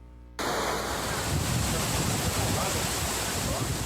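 Storm floodwater from an overflowing stream rushes through a city avenue, a steady, loud broadband roar of churning water that starts abruptly and continues unbroken.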